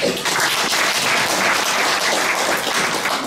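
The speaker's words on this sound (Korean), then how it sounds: "군수님께 응원의 격려의 박수 한번 부탁드리겠습니다." An audience at a county governor's town-hall meeting with residents in Eunha-myeon claps steadily, a dense, continuous wash of many hands that stays loud and even throughout with no voices.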